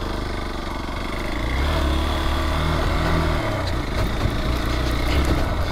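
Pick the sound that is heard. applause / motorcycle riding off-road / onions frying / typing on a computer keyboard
motorcycle riding off-road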